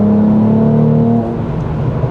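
A Mercedes C43 AMG engine pulls hard under full throttle, a loud, steady rising drone close by that drops into a lower tone as it shifts partway through, with no talking.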